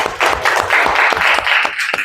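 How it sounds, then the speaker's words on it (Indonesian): A classroom audience claps for a group after its presentation, a brisk, close round of hand claps in quick, uneven rhythm lasting about two seconds. "Kita beri tepuk tangan kepada kelompok 2."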